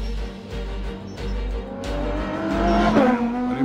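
An Aston Martin Vulcan race car drives on a track on the Grand Tour, its engine note droning close and loud, then climbing steadily in pitch as it accelerates, with a brief tire squeal near the end.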